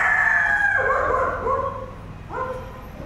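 A mother hen with her chicks on Cambodian temple grounds gives a few drawn-out, wavering calls up close, with a short pause before a final call and no talking.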